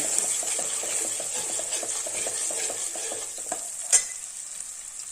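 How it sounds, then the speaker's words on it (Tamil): Drumstick pulp sautéing in a pan for a Tamil drumstick thokku, giving a steady moderate sizzle with faint stirring scrapes throughout and one brief louder clink near the end. "நல்லா வதங்கிட்டு இருக்கு பார்த்தீங்களா"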